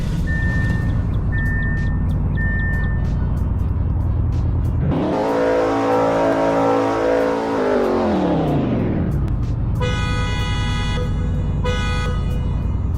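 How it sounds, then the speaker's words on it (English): Car engine revving inside a huge underground parking lot with gates in the Greenville driving game, the roar swelling and echoing for several seconds amid beeps and tones, with no talk. "new gigantic underground parking lot with toggleable gates and a reverb, which means that your car sounds echo while in the lot"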